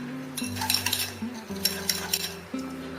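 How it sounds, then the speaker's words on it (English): Butter and sugar whisked in a bowl until light and fluffy: a steady run of close, rapid clinks and scrapes of the whisk against the bowl over a constant low hum. "Now we are going to whisk this until it is light and fluffy."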